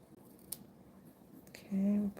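Scissors make a short crisp snip on ribbon in a craft studio: a brief click near the start, then a quieter cut and a louder closing snip toward the end, close and alone with no talk.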